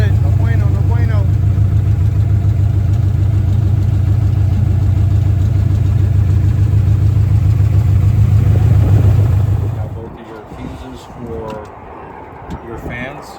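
A freshly rebuilt Monte Carlo SS engine idles steady and loud after its first start, a low rumbling drone lasting about ten seconds before it cuts off and voices are heard in the shop.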